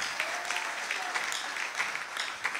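Congregation applauding and cheering in praise of the Lord at an evening church service, a dense, steady wash of clapping with a few voices rising through it.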